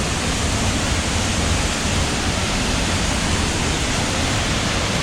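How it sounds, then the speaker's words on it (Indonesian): The Bidadari Sekar Langit waterfall pours in a dense, unbroken roar, loud and close, with no voices over it. "Dan ini merupakan air terjunnya."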